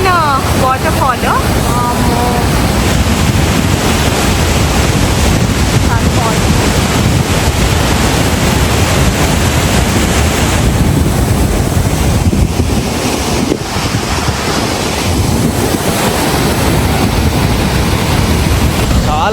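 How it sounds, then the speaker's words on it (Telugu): The main fall at Croton Gorge sends up a continuous, loud roar of rushing water, a steady broadband wash with some wind buffeting the microphone throughout. "సో ఇది మెయిన్ వాటర్ ఫాల్."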